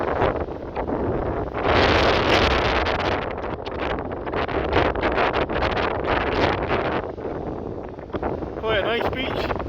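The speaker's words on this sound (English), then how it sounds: "I'm not going in today, it's a bit too windy." Strong gusts of wind buffet the microphone on a shingly beach by the sea near Kalamaki, Greece, loud and continuous with swelling rushes.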